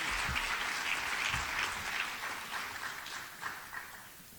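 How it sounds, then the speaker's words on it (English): An audience at a teacher of the year ceremony claps steadily for a school's Teacher of the Year, a sustained, moderately loud applause that fades slightly toward the end. "Let's give a round of applause for Ms. Tracy Pollard, Phillips Elementary School Teacher of the Year."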